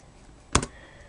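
A brief burst of two or three quick key clicks on a computer keyboard, typing a short command, stands out once against a quiet background.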